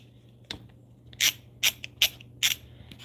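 A ratchet-style tool handled near a mower being pressure washed, giving four sharp squeaky clicks spaced about half a second apart over a quiet background hum.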